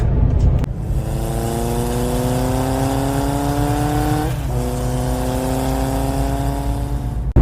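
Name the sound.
motorbike accelerating away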